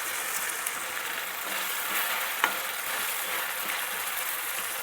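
Country chicken curry frying in a pan, a steady broad sizzle with faint crackles and one small clink, continuous and close without talk.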